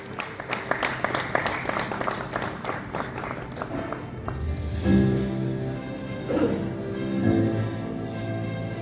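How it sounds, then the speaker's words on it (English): Audience at an insurance leaders' award ceremony applauding, a dense continuous patter of clapping from a sizeable crowd that fades into a lower room murmur with a few dull thumps near the end. "Big round of applause, please."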